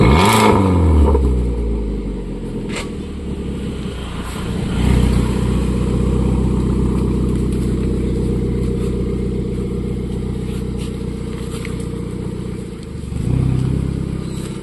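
A Hero Supra motorcycle with a cut and rewelded, modified silencer exhaust revs loudly and close, its engine surging at the start, then holding a steady throaty roar with brief swells, no talk over it.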